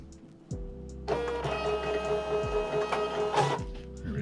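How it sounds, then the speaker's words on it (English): A small label printer prints a shipping label, starting with a click and then running in a steady mechanical whir for a few seconds before stopping, close and alone. "all we have to do now is print the label from our little label printer"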